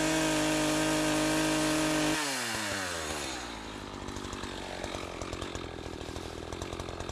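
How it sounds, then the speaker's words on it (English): A chainsaw cuts felled birch trees into logs while clearing land. The engine holds a loud, steady roar, then its pitch drops and settles into a rougher, lower drone, heard close and alone. "I finished cutting up the birch trees I dropped."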